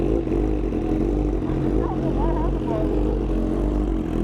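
Honda Fireblade sportbike engine running loud and close, a steady buzzing drone with strong low harmonics and no clear gaps, with a faint voice briefly under it.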